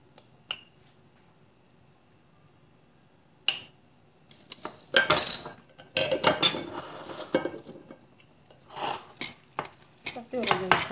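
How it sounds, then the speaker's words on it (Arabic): Eggplant stuffing ingredients with salt and pepper being mixed in a bowl, giving scattered clinks and scrapes of utensils against the dish in short bursts, close and moderately loud, with a voice speaking at times. "صافي، وغادي نبقى نخلط."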